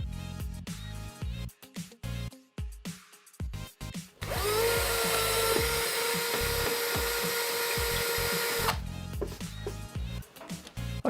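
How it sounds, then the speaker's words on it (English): A cordless power drill whines loudly and continuously for about four seconds drilling into a masonry wall, bracketed by scattered clicks, knocks and handling noises before and after. "I've got my cordless drill all charged up and ready to go"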